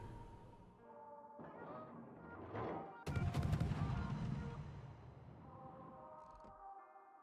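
Naval guns of a Tier IX French destroyer, the Mogador, firing in the game World of Warships: a few heavy booming salvos that swell and decay, with a sharp loud burst midway, no talk.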